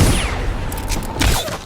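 Rapid gunfire from the player's gun in the video game Dishonored, a burst of sharp reports over a dense game soundscape, with a second loud burst near the end.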